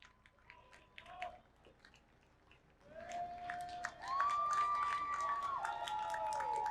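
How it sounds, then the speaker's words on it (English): A distant crowd cheers and claps for Vietnam veterans at an outdoor Independence Day parade in Bel Air, the noise swelling partway through into sustained applause with whistles and shouts layered on top. "Give a round of applause again."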